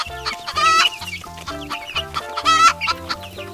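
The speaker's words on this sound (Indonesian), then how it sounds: "ternyata ini namanya ayam betina" A hen clucking close by in steady, repeated throaty calls, with two louder squawking bursts rising above the rhythmic clucks, and no talk.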